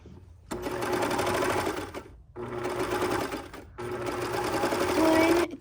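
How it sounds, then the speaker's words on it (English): A serger sewing machine runs in three fast, steady bursts separated by short pauses, a close whirring hum with a rapid mechanical chatter, and a voice is faintly heard under it. "just so I can get the serger started"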